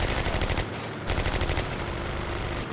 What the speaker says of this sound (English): A lot of machine gun fire coming.